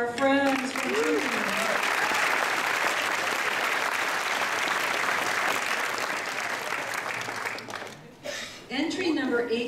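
Steady, loud applause from a Gen Con costume contest crowd fills the hall, with brief speech at the start and a voice returning as the clapping thins near the end.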